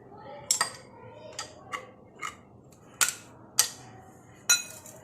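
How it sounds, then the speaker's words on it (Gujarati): Ice cubes drop one after another into a glass of jambu drink, about eight bright, separate clinks and knocks, close and clear against a quiet room. "હવે એને આપણે બરફના ટુકડા નાખી દઈશું અંદર।"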